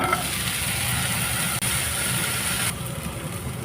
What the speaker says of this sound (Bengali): এবার একটা আলু কেটে নিয়েছে আলুগুলো ভেজে নিব